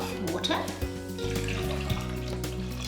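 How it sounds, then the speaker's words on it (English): Water poured from a vessel onto two cups of fine bulgur in a kitchen, a steady splashing gush running for a few seconds with no voices. "to this, I'm going to add 4 cups of water"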